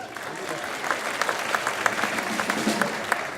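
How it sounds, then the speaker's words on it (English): Audience applause for the baritone saxophones at a spring 5th and 6th grade band concert, a steady patter of many hands with a few sharper claps standing out, moderately loud and without talk. "You can applaud the baritone sax."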